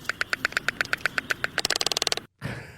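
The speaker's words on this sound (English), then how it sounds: "So you have to replicate the black-footed albatross" Black-footed albatross call, a rapid series of sharp rhythmic clicking pulses that speed up into a denser rattling burst, followed by a short rough honk after a brief gap.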